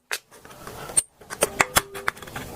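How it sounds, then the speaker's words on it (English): A push pin is pressed into the top of a metal can for an emergency stove, producing a string of sharp clicks and scraping taps, some ringing briefly, close and fairly quiet. "I'm just going to push the push pin right in"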